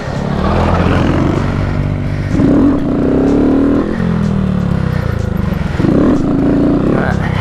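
A Honda Grom motorcycle engine revs up in rising bursts, two distinct climbs to a buzzing high pitch over a running idle, loud and close.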